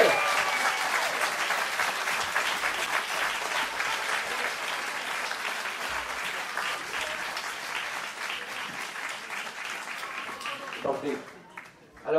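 An audience at an Abbeville political event applauds Gérard Filoche with sustained, dense clapping that gradually thins and fades near the end.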